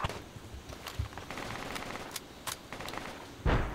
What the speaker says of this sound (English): There's somebody shooting, though, like, right nearby.